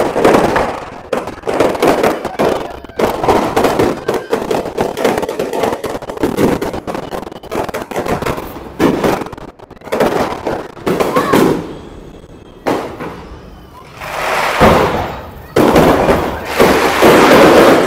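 Fireworks and firecrackers explode nearby in a street in Spain, a loud rapid barrage of cracks and booms with short pauses between volleys, and voices talk among the blasts.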